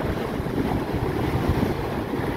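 Ocean surf rolls in at high tide on the shore of Boracay, a continuous low roar of breaking waves mixed with wind buffeting the microphone, with no talking.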